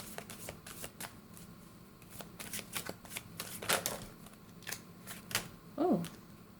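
Crystal oracle cards shuffled by hand at close range: a run of crisp, papery riffles and slaps in an uneven rhythm, with a short voiced sound near the end.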